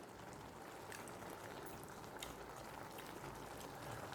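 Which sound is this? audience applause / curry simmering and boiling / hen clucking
curry simmering and boiling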